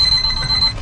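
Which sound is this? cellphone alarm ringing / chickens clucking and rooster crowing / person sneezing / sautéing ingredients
cellphone alarm ringing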